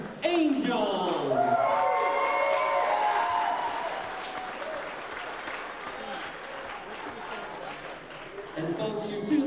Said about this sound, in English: Have a big round of applause for Hensley's Angels.